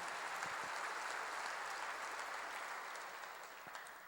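A church congregation claps in a steady, faint wash of applause during a sermon, tapering slightly toward the end.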